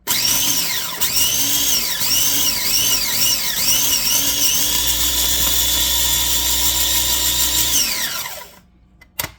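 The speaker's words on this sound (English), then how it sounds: "I'll grind them up a little more, and that'll be pretty much it, because you don't want them powdered, but you do want breadcrumbs." Bread is ground into breadcrumbs in a loud, steady electric grinder, with a harsh motor whine and rising-falling chopping tones that run continuously for about eight seconds before cutting off abruptly.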